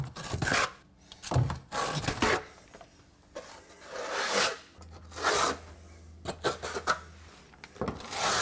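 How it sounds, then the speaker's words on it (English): A notched trowel scrapes and spreads thinset mortar for a subway tile backsplash in close, irregular rasping strokes with brief pauses between passes. "Now I'm going to trowel it just a little flatter than usual"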